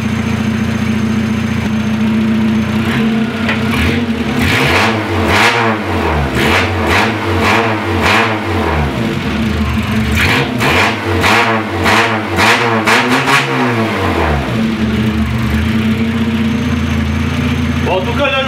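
A Citroën Saxo car engine, previously flooded, running after a restart, with a steady idle broken by several revs that rise and fall in the middle, loud and close throughout.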